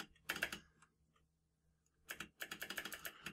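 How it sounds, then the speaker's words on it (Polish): Keys clicking on an old computer keyboard, set out as two bursts of quick, crisp taps: a short cluster near the start, then a longer, denser run after a pause of near silence. Close and moderately loud, with no voices. "teraz kliknę w moją starą klawiaturę"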